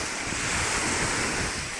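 Strong typhoon wind blowing by the shore, a loud continuous roar of gusts buffeting the microphone, blended with crashing surf and no voices.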